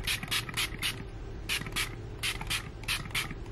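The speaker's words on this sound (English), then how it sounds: "I'm very generous with setting spray" Repeated short hissing bursts of e.l.f. Makeup Mist and Set setting spray misted onto a face, about a dozen quick pumps in uneven rhythm, close and fairly quiet over a low background hum.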